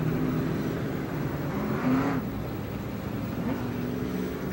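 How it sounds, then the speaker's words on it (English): A pack of 1993 Pro Stock race cars thunders around Star Speedway, with a steady, loud engine drone that swells briefly as the field passes, alongside faint crowd and announcer-like voice traces. "Field rumbling by for the final time."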